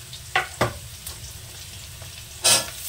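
Radish and green chilli tipped into a pan of lightly fried potatoes: a low steady sizzle broken by a few brief clatters and a louder splash-like burst of frying near the end.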